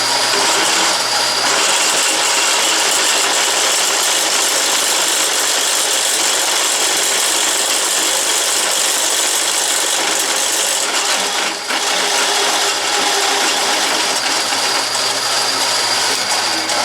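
A drill press with a pull gear bores into metal, a loud, steady mechanical whine and grinding that runs on throughout, with a brief dip near the end and no talk.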